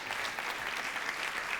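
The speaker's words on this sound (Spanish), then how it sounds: "Vamos a dar unas fuertes palmas todos juntos." Church congregation clapping together at a sermon service, dense steady applause from many hands throughout, moderately loud and without speech.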